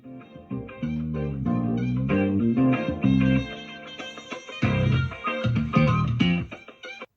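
A layered funk groove with bass, piano chords and a breathy, jazzy saxophone melody, moderately quiet, playing steadily with a short dip midway.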